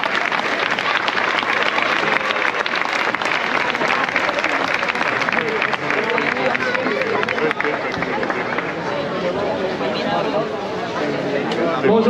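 A crowd applauding the giants parading in Palma, Mallorca, a dense, sustained wash of clapping from many hands in the open, with cheering and crowd chatter mixed in.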